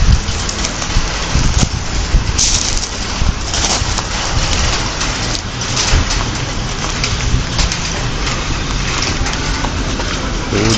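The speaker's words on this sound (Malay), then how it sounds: "Hujan dah turun." Heavy rain pours steadily, a loud dense hiss with scattered louder drops and patters, no voices.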